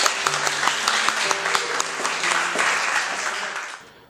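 Audience applause for a group presentation in a classroom, a dense burst of clapping filling the room and tapering off toward the end.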